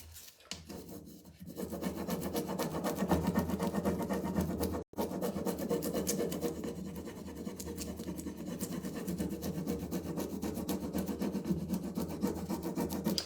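A decoupage transfer is rubbed firmly onto a textured wooden demi lune table, a continuous close rasping scrub with rhythmic strokes, briefly interrupted once, with no talk.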